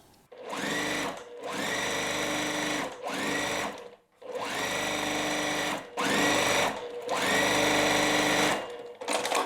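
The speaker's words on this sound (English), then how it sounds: "So what I'm gonna do is start to sew." A sewing machine stitches quilt block pieces for a nine-patch in six close, loud runs of rapid whirring, each a second or two long and separated by short pauses, with no talking.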